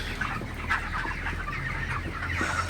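Broiler chickens cluck and murmur in a crowded poultry shed during sweltering humid heat, a steady dense flock chatter with a constant low hum underneath and no voices.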